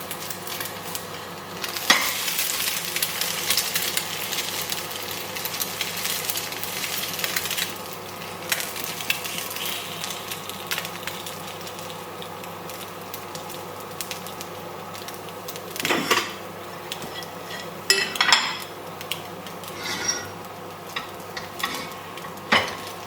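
Food sizzling and stirring in a cheap TEMU nonstick pan, a steady close frying hiss broken by a few scraping knocks as the pieces are moved and flipped.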